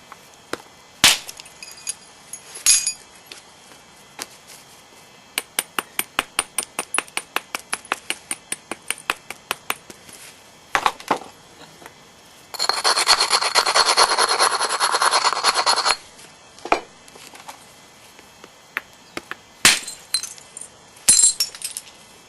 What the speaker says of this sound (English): I'm hitting pretty close to the edge, trying to remove thinner flakes